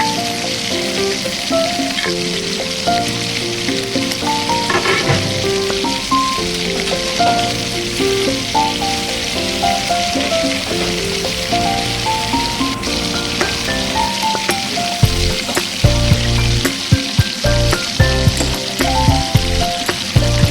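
Ginger paste and tomatoes fry steadily in a pan for a home-style chicken curry, a constant sizzle with occasional stirring, all under background music.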